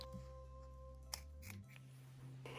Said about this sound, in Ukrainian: Обрізаємо зайву блискавку ножицями, які нам не шкода.